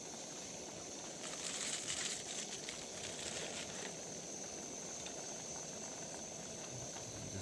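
Water heating to a boil for noodles with beef bouillon on a camp stove outdoors, a soft continuous hiss and bubbling with a slightly stronger surge early on, faint and steady with no voices.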